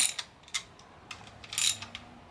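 Wrench clicking and ratcheting as clutch cover bolts are cracked loose on a Kawasaki ZX-6R engine: several short, sharp metallic bursts, close and fairly quiet, with no talk.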